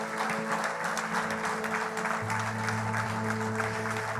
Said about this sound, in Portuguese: vamos estar numa salva de palmas a Jesus por eles